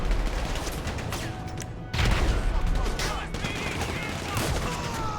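Gunfire in GTA 5 survival mode: a loud, dense barrage of shots with a sharp burst near two seconds, continuing in overlapping volleys, with a voice speaking over parts of it.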